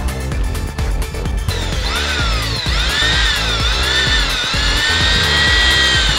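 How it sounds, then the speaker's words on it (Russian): Power drill biting into material while building a homemade grape trellis from thick 5 mm wire, a loud steady whine with rising and falling pitch sweeps, close by and alone. "Берем сверло, в зависимости от диаметра проволоки."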